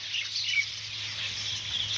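Several birds chirp and call in a steady high-pitched chorus, continuous throughout, with a low hum underneath and no talking.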